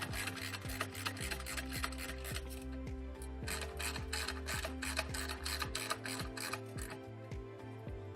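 Someone tightens a fastener while installing a metal drawer leveling kit, producing close, quiet rhythmic ratcheting and grinding scrapes in a steady repeated pattern.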